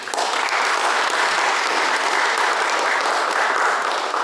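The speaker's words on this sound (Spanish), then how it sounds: "porque pido un fuerte aplauso" Steady, dense applause from an audience at a Spanish-language book launch, uniform in loudness from start to finish with no voices breaking through.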